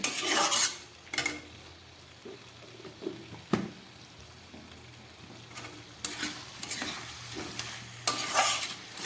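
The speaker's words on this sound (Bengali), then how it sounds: "এবারে একটা চিকেনের ঝোল রান্না করছি" A spoon stirs a thin chicken curry made with little oil and spice in a pan, giving intermittent scraping clinks against the metal over a soft, steady sizzle, close by and with no talking.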